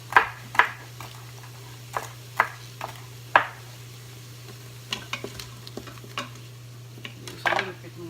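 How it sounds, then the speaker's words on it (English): Swiss chard stems are sautéed in a pan with a little vegetable broth, and a utensil stirs and scrapes in sharp, irregular knocks over a faint, steady sizzle. "You have to sautee the stems."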